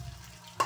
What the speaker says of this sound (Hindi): ये हमने इसमें प्याज लिया है, थोड़ा लहसुन लिया है और हरी मिर्च ली है।